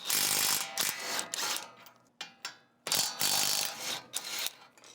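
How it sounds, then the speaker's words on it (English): Ratchet wrench loosening the bolts on the bottom side of a Toyota Tacoma ball joint during a bushing upgrade, heard as close, rapid clicking bursts in several runs separated by brief pauses, with no talk. "And now I'm removing the bolts on the bottom side of the ball joint."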